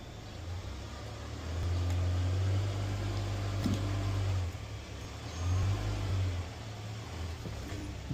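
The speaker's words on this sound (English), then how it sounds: "now we're going to put this vehicle on the ramps" A 2015 Nissan Altima with a 2.5L engine idles and rolls up onto ramps, its low engine rumble swelling twice as the car climbs and then easing back, close by with no talk.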